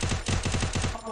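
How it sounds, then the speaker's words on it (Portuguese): Rapid automatic gunfire in the battle-royale game Free Fire: about six quick, evenly spaced shots in a tight burst, loud and close, with no talking. "Um tiro aqui, velho."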